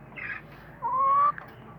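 An Aseel hen taking a mud bath gives a brief cluck, then a clear, steady, rising vocal note of about half a second. There is faint background noise and no talk.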